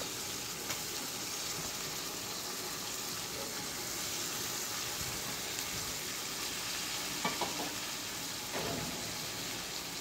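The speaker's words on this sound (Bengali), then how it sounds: "একটু হালকা ভেজে নিতে হবে।" Food frying lightly in a pan, a steady soft sizzle holding evenly throughout with a few faint clicks of stirring, no voices.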